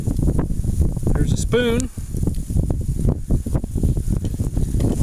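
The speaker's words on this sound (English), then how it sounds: "Wind is blowing like crazy" Strong outdoor wind buffets a microphone at a turn-of-the-century home site, loud rumbling gusts pulsing throughout, with someone speaking briefly midway.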